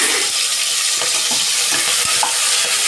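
Whole spices and fenugreek leaves crackle loudly in hot oil inside a pressure cooker for mutton curry. The dense, close sizzle is broken by a few stirring scrapes and taps.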